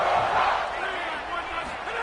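Hostile stadium crowd roars continuously at a college football game, a dense, loud wall of voices with a low rumble beneath, steady for the whole stretch.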